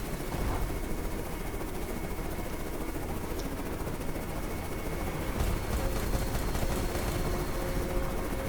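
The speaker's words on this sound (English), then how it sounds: "Flying a helicopter" A helicopter in the video game Carrier Command 2, its engine and rotor roar dense and constant throughout, loud and close with a steady chopping texture and no talk.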